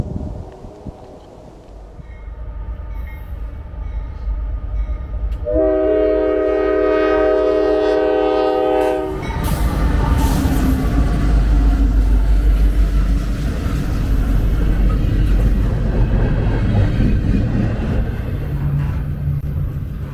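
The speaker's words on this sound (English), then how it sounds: "Next up is an intermodal container train bound for Cleveland and beyond." An intermodal container freight train approaches with a long multi-note horn blast, then rumbles past loudly and continuously, wheels clattering and wagons droning close by.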